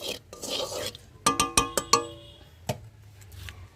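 Salt and turmeric being stirred into hot oil in a pan: a short burst of quick metallic scrapes and clinks, close up, with quieter rubbing before and after.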